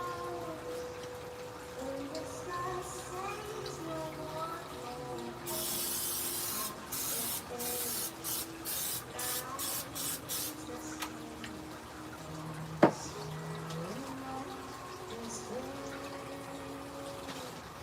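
A can sprays a baking dish for an apple peach cobbler in a home kitchen: one long hiss and then a quick run of short, crisp bursts, clear over soft tonal background sound.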